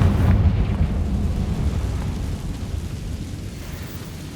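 Confringo explosive spell blast in the Hogwarts Legacy video game, a loud low rumbling boom that starts strong and decays into a long, fading roar over several seconds.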